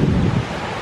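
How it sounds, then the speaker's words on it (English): Waves washing onto a private beach on Lake Michigan, a steady rushing wash heavier at first and then easing, with strong wind buffeting the microphone. "Listen to those waves."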